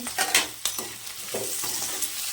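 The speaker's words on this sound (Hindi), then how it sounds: "आलू मटर डाल दिए हैं हमारा प्याज फ्राई होने के बाद। और अब हम इसको धीमे आंच पे थोड़ा सा भूंजेंगे।" Potatoes and peas stirred into fried onion with ginger and green chili in a pan over a low flame, giving a steady sizzle with several scraping stirs at an irregular rhythm, close and moderately loud.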